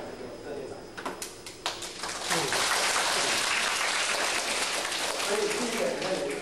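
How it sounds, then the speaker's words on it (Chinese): An audience at an education lecture breaks into warm applause, starting with scattered claps and swelling after a couple of seconds into sustained, dense clapping that fills the hall. "大家还是给我热烈掌声"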